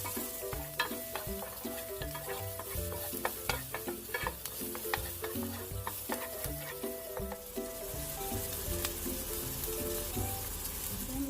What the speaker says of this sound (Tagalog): sa same cooking pan, ilalagay na natin yung onions. Saute lang natin for a few minutes.